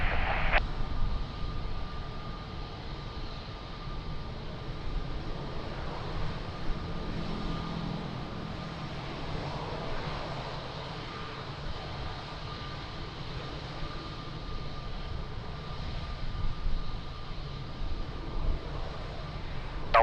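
An airplane at Lisbon Airport gives a continuous, steady engine roar from a distance, with no break and little change in loudness.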